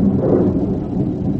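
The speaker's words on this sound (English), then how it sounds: "No, I don't like the thunder." A low, steady rumble of thunder rolls on for a moment, loud and close, with nothing else heard over it.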